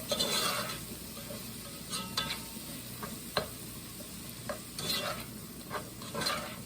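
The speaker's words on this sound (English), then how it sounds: "We let this saute in there." Ginger being stirred and sautéed in a pan over medium-low heat, giving a steady sizzle with scattered scraping and clicking stir strokes, fairly close and with no talk.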